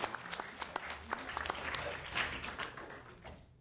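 Brief applause from visitors in a state Assembly Health Committee hearing room in Sacramento, scattered claps building into a soft, fairly distant patter that fades out near the end.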